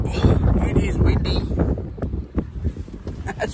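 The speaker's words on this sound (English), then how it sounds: "Very bloody windy." Strong wind in Melbourne buffets the microphone with a low, rumbling roar that gusts throughout, while a person talks over it.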